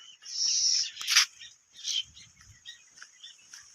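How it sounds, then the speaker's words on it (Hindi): Birds chirp and call near a farm field, several bright bursts and short tweets in an open, quiet setting with no talk. "यहाँ पे चिड़िया लोग चहचहा रहे हैं"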